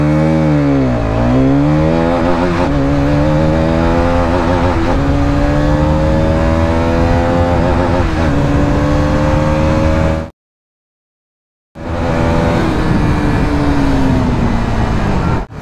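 A Hero Karizma XMR 210 motorcycle accelerates hard from 0 to 100, its loud exhaust note climbing through the gears with rising whines and shift dips. It cuts off abruptly, then resumes at high revs after a short silence.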